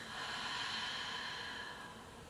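A long, steady exhale through the mouth during a morning vinyasa yoga session, a close, airy breath that swells then gently fades over about two seconds, with no talking.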